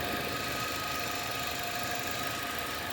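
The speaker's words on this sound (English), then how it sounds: "Now the engine's running weird, kind of surging." A running 2006 Nissan Altima engine, under evaluation for a suspected head gasket fault, drones steadily up close with a continuous mid-range hum and vibration, no talk over it.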